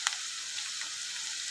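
Onions and turmeric fry in oil for an amaranth curry, a steady high hiss of sizzling with a faint stirring tap at the start, quiet and brief.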